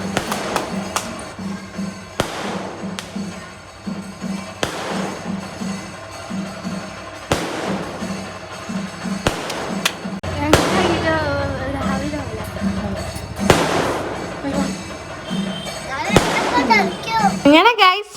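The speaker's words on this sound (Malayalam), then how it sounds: "അങ്ങനെ ഗൈസ് മെയിൻ വെടിക്കെട്ട് എത്തിയിട്ടില്ല, അത് അതിൻ്റെ ഇടയിലൊന്ന് ഇത് പൊട്ടിയതാണ്." Fireworks burst outside on a Ramadan iftar evening at a family home, a string of sharp, loud bangs and cracks at irregular intervals, with children's voices and talk in between.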